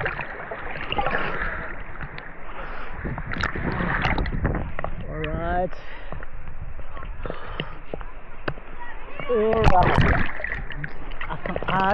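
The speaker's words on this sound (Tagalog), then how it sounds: "Ayun yung alon oh." Sea waves slosh and splash against a small boat off New Zealand, a steady rushing wash with a louder surge near the end, while people talk throughout.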